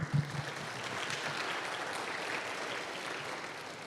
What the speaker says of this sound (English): give yourselves a round of applause before we get started